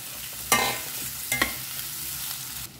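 Chopped boiled potatoes being mixed in a pan, heard as two or three scraping stirs over a soft steady sizzle.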